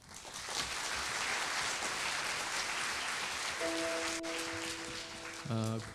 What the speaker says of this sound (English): Please provide a warm applause